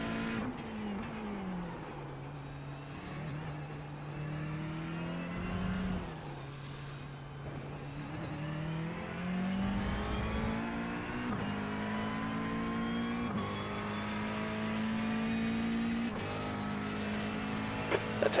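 Race car engines screaming at high revs, a Ferrari running close behind, with steady sustained whine and rising and falling pitch through gear changes and throttle, loud and continuous throughout.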